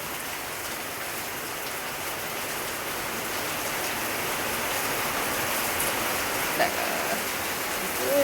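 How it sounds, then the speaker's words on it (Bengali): Steady rain pours down outdoors during a Sunday chicken curry cooking session, a dense even hiss that stays constant and fairly loud throughout with no break. "বৃষ্টি হচ্ছে।"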